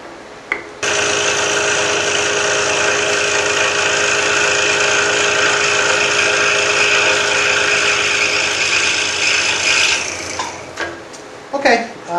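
A scroll saw cuts the walls of a round wooden inlay box bowl with a loud, steady, buzzing whine that runs nearly ten seconds, then stops abruptly, leaving a few scattered knocks and handling sounds.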